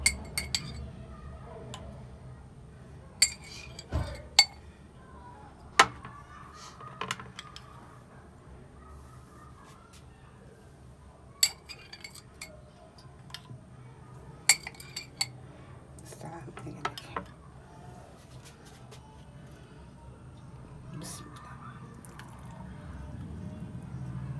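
A drinking glass is handled for a homemade chiku and banana milkshake, with sharp, scattered clinks and taps against a quiet kitchen background and a faint voice now and then.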